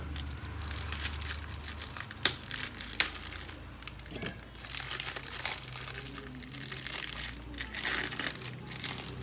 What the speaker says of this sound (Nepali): अब अर्को नयाँ रिबन राख्नुलाई ठ्याक्कै यसरी डब्बा खोल्नुहोस्